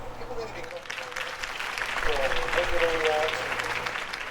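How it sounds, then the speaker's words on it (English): Crowd applause at a political campaign rally for a city election, sustained clapping from a large audience that swells midway and stays steady, with some voices mixed in. "could have heard that applause"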